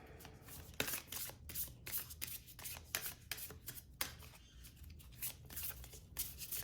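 Soft-touch oracle-size cards being shuffled by hand, a steady run of quick papery riffles and flutters for several seconds with brief pauses between bursts, close and fairly quiet, with no talking.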